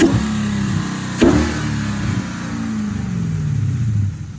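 Cadillac CTS-V accelerating hard with a loud intake roar, a low engine drone building and falling over a few seconds, with a sharp burst just past one second, close and alone without talk.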